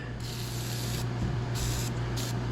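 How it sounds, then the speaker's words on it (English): A can of Liquid Wrench lubricant hisses in several loud, close bursts as it is sprayed onto the door rail of a 1990 Ford F350 crew cab truck, with a steady hum underneath. "got a different can of liquid wrench here. We're gonna try to lube this rail up with it real good."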